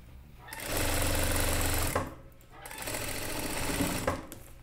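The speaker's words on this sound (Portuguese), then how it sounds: "agora eu vou passar todas essas costuras no overlock" An overlock sewing machine stitches garment seams in two loud, steady whirring runs of about a second and a half each, separated by a short pause, close up.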